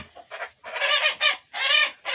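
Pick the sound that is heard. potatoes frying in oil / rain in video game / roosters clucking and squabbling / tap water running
roosters clucking and squabbling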